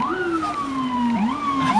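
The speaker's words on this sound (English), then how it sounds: "like that siren" An ambulance siren on a Montreal street wails in rising and falling sweeps, loud and close, with no talk over it.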